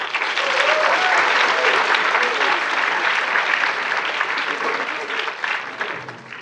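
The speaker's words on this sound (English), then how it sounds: "One last round of applause for all of you." Warm audience applause for readers at a writers' event, steady even clapping from a room full of people that carries on for several seconds before beginning to thin out at the end.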